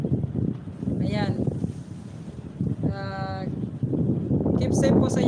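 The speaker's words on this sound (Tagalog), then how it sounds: "kasi medyo mahangin ngayon" Gusty wind buffets the microphone in a continuous roar while people talk over it.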